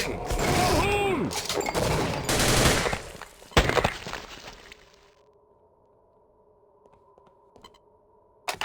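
Gunfire in the video game Sven Co-op, a dense, loud burst of rapid shots and clattering effects over the first few seconds, then a sharp final crack before fading to a faint hum, with voices mixed in.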